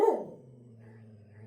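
A dog lets out one sharp bark up close at the start, followed by a low trailing hum and faint background sounds.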